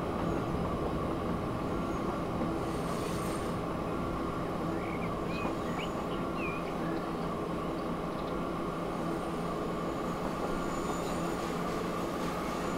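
A simulated train running in the video game Transport Fever 2, with a steady rolling rumble and faint high wheel squeals, heard continuously without talking.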